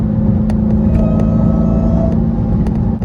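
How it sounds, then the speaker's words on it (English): A Dodge Hellcat Charger fitted with a Borla ATAK exhaust revs hard and close, a loud continuous deep roar with a few sharp pops, no talking. "BORLA ATAK. Sounds like a race car. It sounds glorious."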